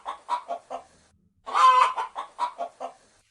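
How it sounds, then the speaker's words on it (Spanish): A hen clucks close and clear in short rhythmic bursts, pauses briefly, then gives a longer drawn-out squawk followed by more clucks, with no talking. "Sí, es una gallina."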